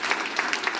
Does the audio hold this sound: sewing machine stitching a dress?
no